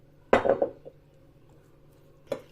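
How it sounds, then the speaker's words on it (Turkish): Dolma filling of minced meat and paste with olive oil being stirred in a bowl: two or three close clinks and scrapes of a utensil against the bowl, then a quiet pause and another clink. "Evet güzelce karıştırıyorum."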